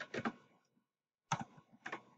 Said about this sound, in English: So you can type the research.